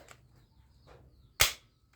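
A toy rifle fires one loud, sharp crack near the end, preceded by a couple of fainter clicks and rustles.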